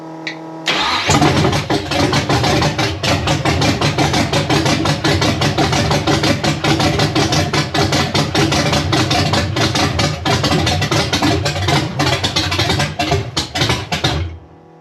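A 1966 Chevy Nova engine, unrun for 33 years and apparently misfiring, cranks and catches, then runs loudly and steadily with a rough, uneven idle before shutting off abruptly.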